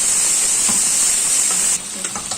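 Onions fry in a pan with a steady hiss, a dense continuous sizzle close by that drops slightly near the end, with a few soft stirring taps.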